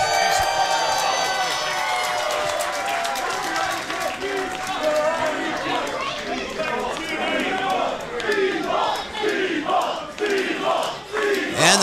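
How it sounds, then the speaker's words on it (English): A wrestling crowd roars and cheers as Speedball Mike Bailey, a 180-pound challenger from Montreal, enters: loud, sustained shouting and chanting that swells in waves, with clapping mixed in and a ring announcer's voice over the noise. "And the crowd here loving the speedball."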